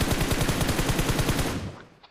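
Rapid automatic gunfire from BGMI (PUBG Mobile) in a 1v2 squad fight, loud continuous bursts of shots for about a second and a half before tapering off into quieter game ambience.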